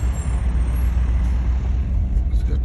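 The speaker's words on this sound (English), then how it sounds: "That Nipsco truck behind me." A NIPSCO utility truck follows close behind a van on Connecticut Street in Gary, giving a loud, steady, low engine rumble that fills the whole moment without any speech.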